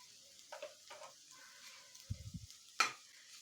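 Ginger, garlic and Kashmiri chili powder fry in a pan for a paneer Kolhapuri gravy, with soft intermittent sizzles, a few low scraping stirs and one sharper clatter, all fairly quiet.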